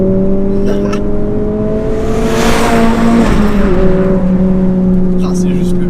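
A Renault Clio 3 RS sport engine runs close by with a loud, steady droning note that swells with a burst of revs midway and settles back, while someone talks over it.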